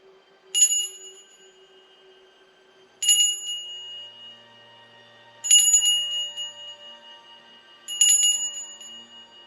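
A small hand bell in an old railway cottage rings four times at even intervals of a couple of seconds, each a clear bright ding that rings out and decays into an otherwise quiet room.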